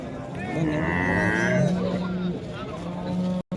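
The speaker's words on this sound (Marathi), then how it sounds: "ही एक शेतकऱ्याची गाय आली" A cow moos loudly and at length at a busy cattle market, its long low call rising over crowd noise and voices talking nearby.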